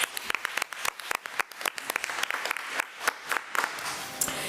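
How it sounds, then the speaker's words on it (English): A round of applause at a school board committee meeting, with scattered individual claps standing out sharply over a softer, moderately distant clapping crowd that tapers off toward the end. "let's give Miss Smalls a round of applause"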